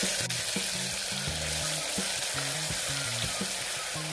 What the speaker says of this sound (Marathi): आता याला तेल सुटेपर्यंत मंद गॅसवर मसाला परतवून घेऊ